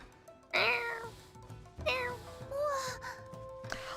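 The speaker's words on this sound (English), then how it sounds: "Let us pet the cats." A cat in a video game meows three times, each call loud and rising then falling, separated by short pauses, with faint background game sounds.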